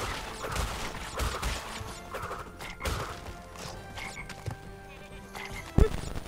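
A goat bleats in the Crash Bandicoot N. Sane Trilogy game, mixed with crates smashing, thuds and mechanical game effects, fairly loud and busy throughout.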